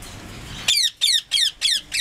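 Pied budgerigars, including violet and silver harlequin varieties, give a rapid run of five sharp, loud squawks close by, each a quick descending burst, following a brief stretch of soft background rustle.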